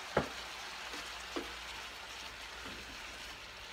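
A spoonful of tomato paste and some Spanish sofrito sauce go into a pan of Cuban picadillo, giving a quiet, steady sizzle with a few soft taps, and no talk.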